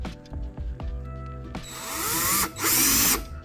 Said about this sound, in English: now we're going to be drilling them into here